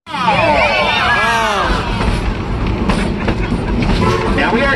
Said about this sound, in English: now we are coming back into the train depot